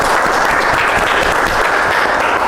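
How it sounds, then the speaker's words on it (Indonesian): A small room of people, likely a class, bursts into dense, loud applause for a presenter, sustained hand-clapping that fills the whole moment without pause. "kita beri aplaus dulu buat Mbak Kareni"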